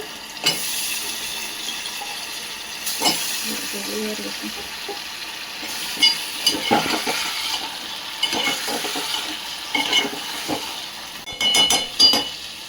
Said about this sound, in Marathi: आता आपण शेंगा टाकूया। पेस्ट मध्ये थोडासा शेंगा होऊ देऊया।